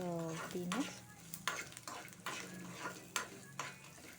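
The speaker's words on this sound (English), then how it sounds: "we are adding very little peanuts and fry for a minute" Raw peanuts frying in a pan for tomato chutney, a constant sizzle broken by regular scraping stirs of a spoon against the pan, close and fairly quiet, with no speech.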